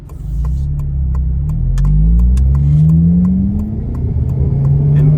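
Honda car engine revving hard as VTEC engages, a loud sustained roar climbing steadily in pitch over several seconds, with faint ticking above the drone and no talking.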